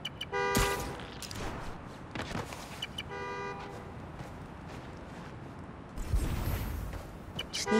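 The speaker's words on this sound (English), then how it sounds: "Need to listen and find the source. Find the horn, Find the car." A car horn honks twice in short bursts in the video game Marvel's Spider-Man: Miles Morales, followed by a rumbling whoosh, with steady ambient noise throughout.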